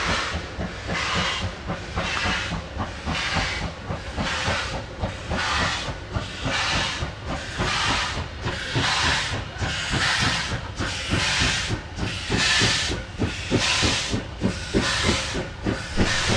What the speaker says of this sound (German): Hier sehen wir den Zug, gezogen von der 52-81-34 der Eisenbahnfreunde Bestdorf bei der Fahrt durch Feuerfeld.